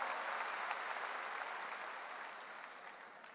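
A church congregation at a Sunday worship service for a peace-and-reunification prayer meeting applauds, a broad, even roar of many hands clapping that slowly fades over a few seconds, with no voices over it.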